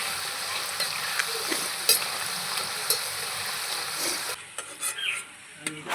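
Nimki pastries frying in hot oil for a homemade batch, giving a steady close sizzle and crackle throughout, with a few brief clinks near the end.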